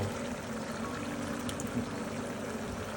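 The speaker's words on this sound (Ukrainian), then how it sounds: "Додаємо наші томати." Canned tomatoes poured into a simmering pot of homemade bograch goulash, a steady wet pouring and splashing close by that runs through the whole moment without talk.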